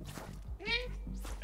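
A cat in the video game Stray gives one short, clear, close meow midway, with small soft background sounds before and after.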